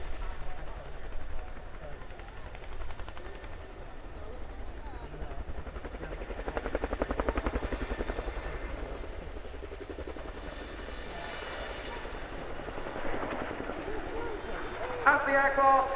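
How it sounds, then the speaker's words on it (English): An RAF Chinook HC.6 helicopter flies at an airshow, its rotor thudding steadily at moderate distance as the drone swells and eases, with an announcer talking over it throughout. "As the aircraft transitions away into forward flight, the Chinook will now reposition to provide overwatch for the troops on the ground"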